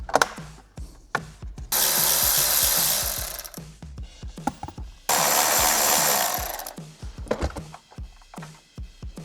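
A hand tool loosens the 10mm bolts holding a Corvette C8 steering wheel, with quick close ratcheting clicks and two longer spells of continuous whirring or rubbing in between. No one speaks.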